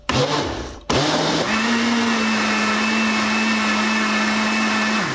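An electric blender mixing baghrir crêpe batter made with flour and semolina, starting with a brief whir, stopping, then running steadily and loudly with a constant motor drone.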